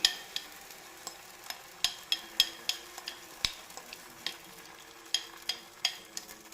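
Oats and egg omelette mixture cooking in a buttered pan, with a faint steady sizzle and repeated sharp scraping taps of a utensil spreading it, alone and close.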